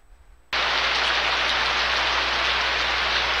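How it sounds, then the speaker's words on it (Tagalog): Steady heavy rain, a dense, loud hiss that cuts in abruptly after a brief quiet start and then holds constant, with no voices. "Nalaman ng tao may ulan."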